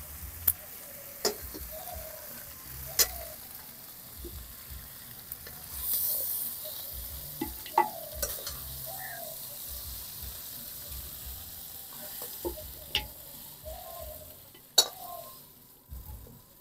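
Sautéed mutton is transferred from a wok into a clay pot, giving a faint, quiet sizzle broken by scattered sharp clinks and taps of a utensil against the cookware.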